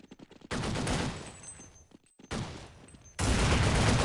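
Bursts of automatic gunfire in Counter-Strike 1.0, loud and dense, coming in three long sustained volleys broken by brief gaps of near silence; no voices.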